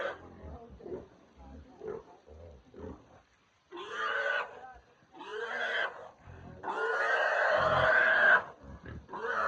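Loud, harsh pig grunts and squeals come in several long bursts close by, after a stretch of quieter, scattered snorts, from a pig being collected by a buyer.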